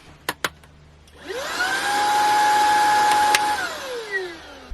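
A Hoover vacuum cleaner used while tidying a messy room: a few clicks, then the motor whines up to a steady, loud, close roar, held for a couple of seconds before it winds down.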